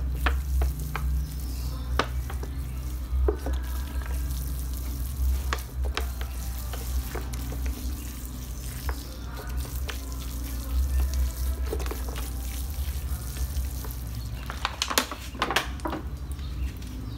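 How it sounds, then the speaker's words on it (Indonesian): Water poured from a watering can or hose onto pea shoot trays filled with soil and rice husk outdoors, a steady trickling and splashing with soft sizzling patter and a few clicks, no talking. "Saya akan siram yang banyak untuk pertama kali."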